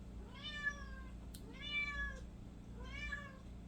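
A mother cat meowing to her kittens, three drawn-out, rising-and-falling meows spaced apart over a steady low background hum, fairly close, with no one speaking.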